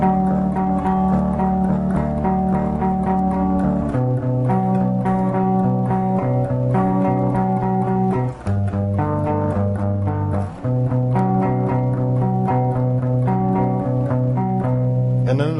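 Guitar playing a song intro, a rapid, continuous picked chord pattern with droning notes, loud and close, with shifts in the chord every few seconds.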